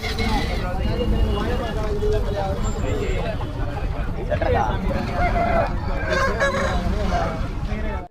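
Hens cluck at a busy Saturday hen market in Mydukur, heard amid dense crowd chatter and occasional vehicle honks.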